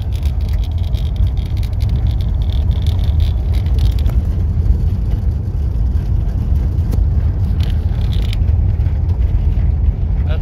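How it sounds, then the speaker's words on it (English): Steering wheel knob rattling inside a moving car, a continuous fast clatter over steady engine and road rumble. "That's the steering wheel knob there, rattling away."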